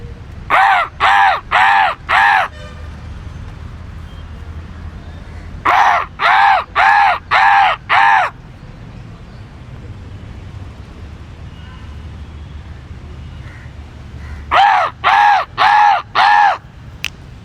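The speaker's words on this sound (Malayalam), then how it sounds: "ആ ദേടാ ഒരു കാക്ക വന്നു" Crows caw outdoors near a village. The loud, harsh caws come in three separate bursts of about five evenly spaced calls each, with quieter background sound in between.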